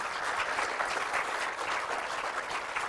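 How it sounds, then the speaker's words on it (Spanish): Audience applause at a drawing and painting contest award ceremony, a steady patter of many hands clapping together for a few seconds, moderately loud and without talk. "Le damos un aplauso, por favor."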